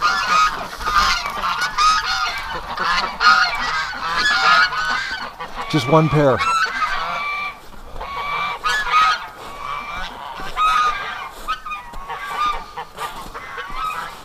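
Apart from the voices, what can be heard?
Canada geese honking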